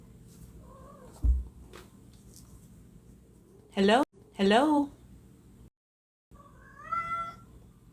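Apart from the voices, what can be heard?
cat meowing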